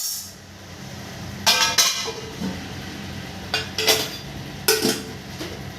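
A lid is set onto a cooking pot of butter chicken, giving a few close metallic clinks and clatters in short bursts over a low background hum.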